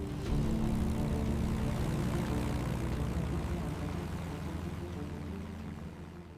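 Airplane taking off from a remote landing strip, heard as a steady propeller and engine drone that fades gradually, alone with no talk.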